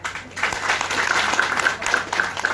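Crowd applause for the mayor at a public event in Catu, a continuous burst of clapping that swells and holds for the whole stretch, fairly loud and alone.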